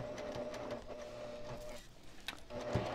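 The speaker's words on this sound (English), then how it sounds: "So I'm going to start by backstitching." A sewing machine backstitches the start of a pillowcase seam, its needle chattering in a quiet, steady run with brief pauses and small clicks, heard close with no voices.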